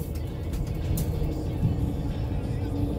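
A car pulls away and drives along the Seward Highway south of Anchorage, its engine and road rumble steady and fairly close throughout, with faint voices in the background.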